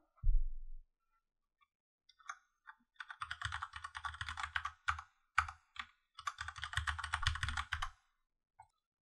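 Keys clatter on a computer keyboard while the root user password is set during a Kali Linux install, a close, quiet run of irregular clicking bursts with a brief low thump at the start and pauses between.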